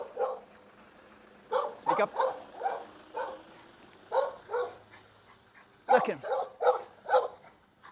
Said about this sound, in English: there's a dog in this corner, big, I think it's not a bull terrier, a pit bull, big bull